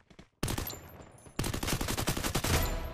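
Automatic gunfire in the mobile battle-royale game Free Fire: a loud, close burst of rapid shots breaks a moment of quiet, pauses briefly, then a second longer volley of rattling shots runs to the end.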